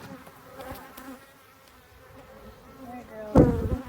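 Honeybees hum softly around a newly installed queen in an open backyard hive, a low steady drone with a louder close pass near the end.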